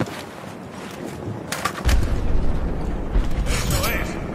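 Gunfire in the Battlefield 4 campaign: a couple of heavy, booming shots with a rumbling tail, over steady game noise with voices.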